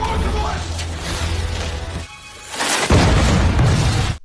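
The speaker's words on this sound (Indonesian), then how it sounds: "Setelah Ford meledakkan diri bersama para zombie" A loud film explosion as a man blows himself up together with a crowd of zombies inside a church, a heavy booming burst with a rumbling tail that swells after a brief dip and stays dense to the end.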